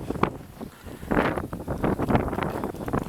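Gusty wind blows during a nor'easter snowstorm with about six inches of snow on the ground, buffeting the microphone in rough, uneven bursts that swell and ease.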